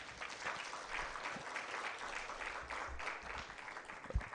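Audience applause at a national shadow budget event for 2025/2026 in Kenya, a steady crowd of clapping sustained for several seconds with no talk over it.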